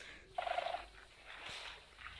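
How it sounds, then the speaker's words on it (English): Chickens in the Minecraft video game give a few short clucking calls, with a burst early on and another at the end over a soft background of game sound. No voices are heard. "Why are you going after chickens,"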